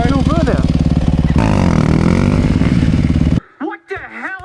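A dirt bike on a farm revs loudly during a burnout, its engine holding a steady high drone close by before cutting off. Voices talk and shout over it.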